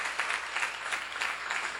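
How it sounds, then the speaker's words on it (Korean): A church seminar audience applauds in a steady patter of many hands clapping, dense and moderately loud throughout the brief moment. "박수를 하세요."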